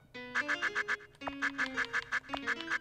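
Short bright duck quacks repeating in quick bursts over a game menu jingle in Cubivore, rhythmic groups of quacks riding along with synthetic musical tones.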